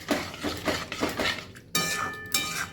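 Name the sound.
stirring yogurt spice curry in a pan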